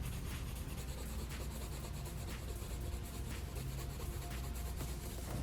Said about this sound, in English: Oh, the sound of colored pencil on paper.